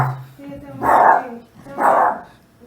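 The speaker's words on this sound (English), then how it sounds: "No doubt you've heard them barking their heads off." Two loud barks from a dog, about a second apart, nearby, with a voice murmuring underneath.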